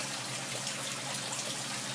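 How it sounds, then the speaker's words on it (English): Faint, steady trickle and gush of water flowing into the grow beds of an aquaponic system, a soft continuous wash with no voices. "So the water comes into each one of the beds."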